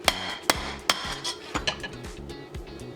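Flat hammer striking a copper bracelet being air chased, with sharp metallic blows at an uneven pace, about nine in all, loud and close with ringing clinks and no talking.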